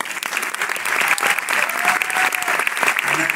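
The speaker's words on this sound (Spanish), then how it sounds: "gracias por tus aplausos." A crowd claps in sustained applause, dense and steady, with faint voices mixed in underneath.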